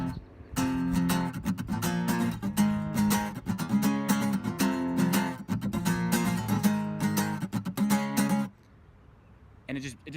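Electric guitar strumming a song's power-chord rhythm at fast tempo, dense, choppy muted strokes continuing for about eight seconds before stopping abruptly into near silence.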